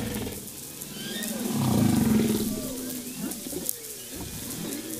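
A whale off Madagascar makes a low, pulsing vocal fry: a creaky rumble that swells over about a second near the middle of the recording, then fades into faint underwater hiss and scattered crackles.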